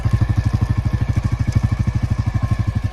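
A Royal Enfield Classic 350 motorcycle engine idling close by, a loud, even thumping beat of rapid regular pulses.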